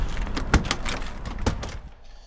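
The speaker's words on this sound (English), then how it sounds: "And really smooth action on the door." The door of a 1969 Ford Mustang Mach 1 S-Code is worked smoothly, with two distinct close latch clunks about a second apart amid light mechanical rustling.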